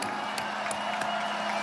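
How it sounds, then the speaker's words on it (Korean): Welcoming applause at a South Korean political party event, a faint, steady patter of clapping from a crowd across the whole moment, with a few sharper claps and a low hum underneath. "환영의 박수."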